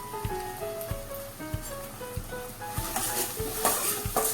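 Spoon stirring salt, turmeric, coriander-cumin powder and garam masala into onions and tomatoes for a spicy masala kadhi in a pan, with regular scraping strokes over a soft sizzle and faint background tones, no voice.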